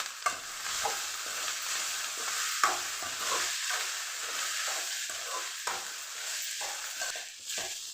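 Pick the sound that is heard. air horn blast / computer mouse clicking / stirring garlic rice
stirring garlic rice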